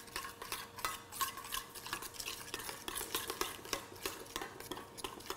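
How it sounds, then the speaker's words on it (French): Creamy tandoori marinade of fromage blanc with argan oil being mixed in a bowl, a steady run of soft scraping and clinking stirring strokes, close and fairly quiet, with no one speaking. "Je mélange."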